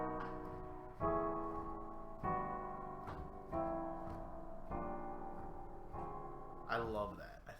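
Sustained harmonic chords, probably on keyboard or guitar, step downward through major chords in whole notes, roughly six long blocks each about a second and a bit, with a brief voice-like sound at the very end.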